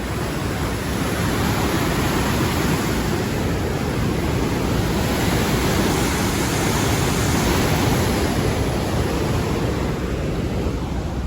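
Fast-flowing river water rushing through Taunsa barrage, a loud, steady broadband roar that fills the whole stretch without a break.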